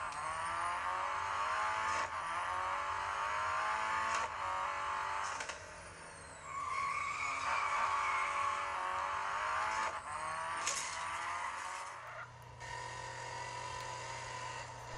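Car engines roar in a racing video game on Android, played with a Razer Junglecat gamepad: sustained loud revving with rising and falling pitch sweeps, shifts and a drop to a lower drone near the end, with no talking.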